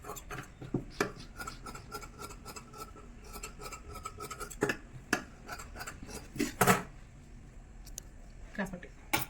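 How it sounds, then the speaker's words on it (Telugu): Scissors trimming extra cloth while stitching a blouse, with sharp snipping clicks and rubbing scrapes scattered close by as a person talks throughout. "ఎక్స్ట్రా క్లాత్ అంతా కట్ చేసుకుందాం."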